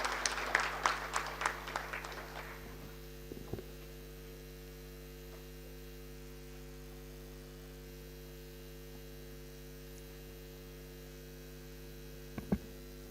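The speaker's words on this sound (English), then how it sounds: "Can we please give a round of applause for TAWI?" Scattered clapping from a small audience at an African Union private-sector forum starts sparse and quickly fades out, leaving a steady electrical hum and a couple of isolated knocks.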